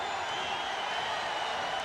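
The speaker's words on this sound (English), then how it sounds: "And this crowd" An arena crowd at Game 3 of the NBA Finals, Chicago Bulls versus L.A. Lakers, produces a steady, even roar of cheering and murmuring that holds at constant loudness throughout the short stretch.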